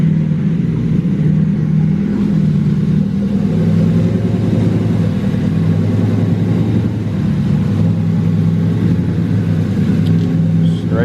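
A Crown Vic fitted with a giant turbo runs with a deep, throaty, steady engine rumble, loud and close, holding at a constant pitch.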